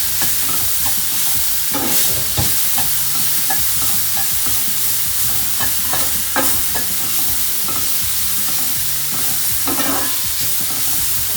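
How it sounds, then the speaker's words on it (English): Salmon flakes with seasoning mix and salt sauté in a pan, giving a steady close sizzle broken by scraping stirs, with no voices. "Saute it well and turn the heat off."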